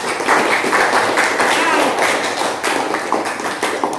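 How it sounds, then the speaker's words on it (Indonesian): Classroom of students at a vocational high school clapping for a group, a loud, dense burst of many hands tapping in quick uneven rhythm, close and sustained for several seconds. "Kita beri tepuk tangan dulu untuk kelompok keyboard yang meriah"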